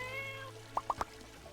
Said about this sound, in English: It's a stray cat.